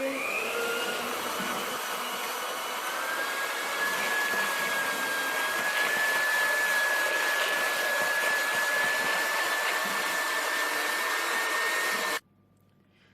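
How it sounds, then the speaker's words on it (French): Chilled chocolate ganache being whipped with an electric mixer gives a loud, steady motor whine close by, rising slightly in pitch and holding for about twelve seconds before stopping abruptly. "je vais récupérer ma ganache que je vais venir fouetter"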